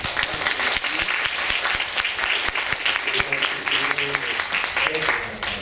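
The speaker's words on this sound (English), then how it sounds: "let's give Mr. Mok another round of applause." Round of applause from a lecture audience for a visiting professor, dense clapping with a voice or murmurs faintly mixed in beneath it.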